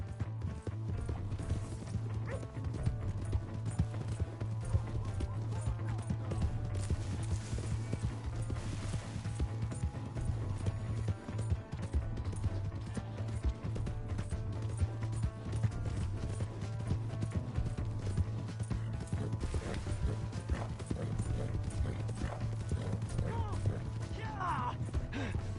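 A horse gallops in Red Dead Redemption 2, its hooves drumming a fast steady clip-clop with an occasional whinny, under a low engine-like hum and game music, with voices talking over it.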